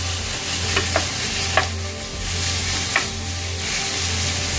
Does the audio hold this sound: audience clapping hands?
no